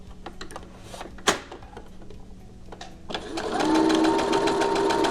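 A sewing machine stitches elastic onto a cloth face mask, starting after some soft handling and a sharp knock, then running as a steady, close, rapid mechanical chatter.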